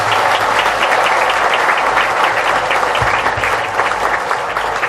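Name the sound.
audience applause for guests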